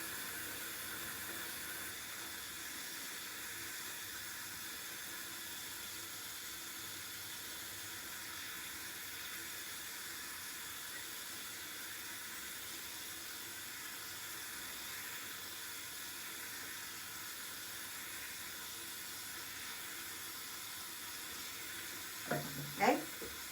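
Water runs steadily from a tap while a wig is rinsed, a soft continuous hiss near the microphone, ending with a brief louder splash or handling noise.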